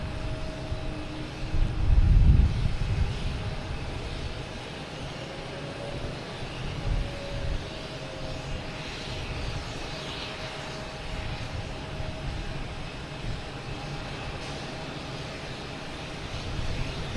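A JetBlue Airbus A220 arrives at Boston Logan Airport, a broad engine roar that swells early and then settles into a steady, moderately distant rumble.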